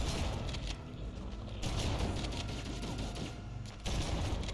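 Enemy gunfire in a Halo video game rattles continuously in quick, close bursts at moderate loudness, with several sharper volleys standing out through the clip.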